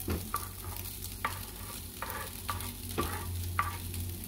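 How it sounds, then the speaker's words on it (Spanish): Chopped carrot sautés in a pan for a ground-beef lasagna, a quiet sizzle broken by regular spatula scrapes and taps roughly every half second, with a low hum underneath. "aquí la voy a ir sofriendo"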